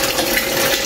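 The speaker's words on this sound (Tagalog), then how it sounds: "Maglalagay na tayo ng additional na tubig" Water mixed with probiotics is poured or pumped into a plastic drum used for raising catfish, making a loud, steady, close gushing rush with no break.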